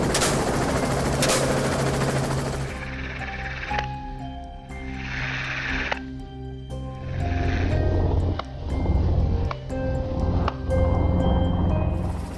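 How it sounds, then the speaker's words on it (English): Rapid gunshots crack out in bursts from a helicopter during a boar hunt, with a steady rotor drone running underneath and shots repeating close together throughout. "Often we had to fire multiple times to take down a single boar"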